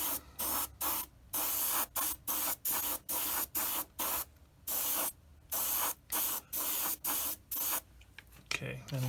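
An airbrush sprays acrylic primer in a series of short hissing bursts, around twenty quick on-off pulses with brief pauses between, close and fairly quiet.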